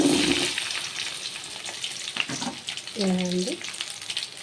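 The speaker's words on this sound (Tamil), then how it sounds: "வெண்டைக்காயை கொஞ்சம் நேரம் வதக்க போகிறோம்" Cut okra sautéing in a pan for a tangy tamarind curry, a soft steady sizzle with scattered stirring scrapes, heard under someone speaking briefly near the end.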